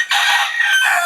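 A small hen gives a loud, close, drawn-out crowing call lasting about a second, heard alone without talk.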